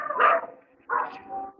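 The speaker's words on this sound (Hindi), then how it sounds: "बाहर कुत्ता भौंक रहा है" Outside, a dog barks twice in quick succession, fairly close and clear, with a short pause between the two sharp yaps.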